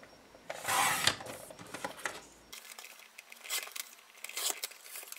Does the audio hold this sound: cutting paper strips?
yes